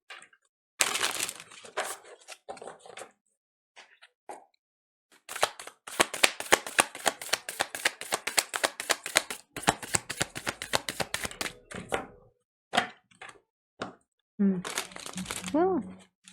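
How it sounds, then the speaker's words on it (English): Tarot cards being shuffled by hand in quick riffling bursts with sharp flutters and pauses between rounds, close and crisp, with brief talk near the end. "cards are difficult to shuffle right now."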